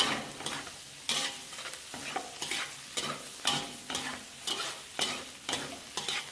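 Carrots tossed and stirred in a hot wok for pork fried rice, with repeated rhythmic scraping and sizzling strokes about every half second, close and moderately loud.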